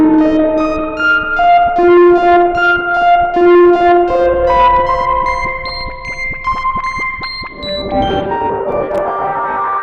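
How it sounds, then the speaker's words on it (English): Music played through a Moisturiser effects unit with exposed reverb, filter and gain-driven distortion: sustained, shimmering tones that step and shift in pitch, swelling into a gritty, distorted wash near the end. "Having that exposed reverb, having the filter, an ability to push the signal and distort it through the gain"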